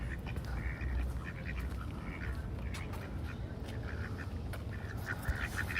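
Ducks on Venice Beach give repeated short, nasal quacks in irregular clusters, fairly close, over a constant bed of outdoor ambience and surf-like wash.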